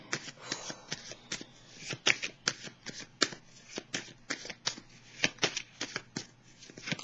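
Tarot cards being shuffled by hand, a rapid, uneven patter of crisp card riffles and slaps, close and steady for several seconds, with no speech.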